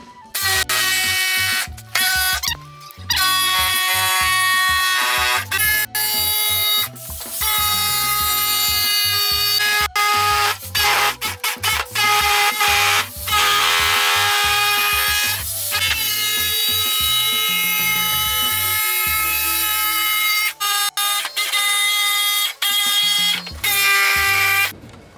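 A power tool cuts metal pieces for a budget homemade truck tonneau cover. Its loud, sustained, harmonic whine runs in long passes, breaking off briefly and starting again several times.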